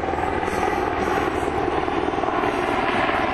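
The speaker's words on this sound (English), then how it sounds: "now let's watch the helicopter moving in" Helicopter rotor and engine drone during a US Air Force joint force military air demonstration in Alaska, a steady dense whir close by and loud throughout, with no talk.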